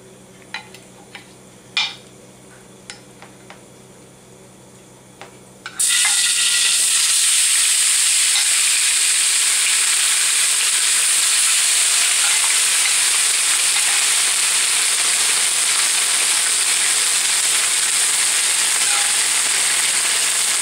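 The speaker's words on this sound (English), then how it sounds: "You're going to want to stir fry that around and cook it until you start to see your tofu start to brown up." Tofu hits smoking-hot peanut oil in a wok and erupts into a loud, sustained sizzle and hiss that runs unbroken, preceded by a few quiet clinks and taps.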